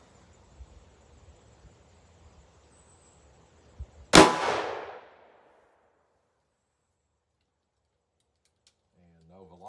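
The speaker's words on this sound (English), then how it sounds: "next up is the 2-inch Rossi snub nose" A single sharp gunshot from a 2-inch Rossi snub nose .38 Special revolver firing a 125 grain Hornady XTP bullet, loud and close with a brief ringing decay, preceded by faint quiet shuffling.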